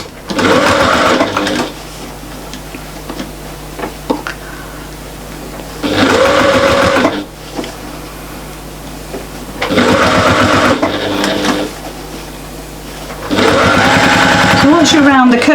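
A sewing machine stitches a curved fabric pouch in four loud, close bursts of rapid rattling, with short pauses between them while the fabric is turned.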